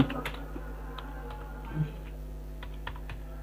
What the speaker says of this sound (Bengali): ওকে, সো আমি এখানে লিখলাম তুলতুল